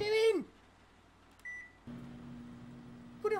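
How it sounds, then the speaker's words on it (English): A short electronic microwave oven beep sounds once in a quiet kitchen scene from the game Heavy Rain, followed by a steady low hum of the running oven, with brief chirpy sounds at the start and end. "Putting hot drinks in the microwave?"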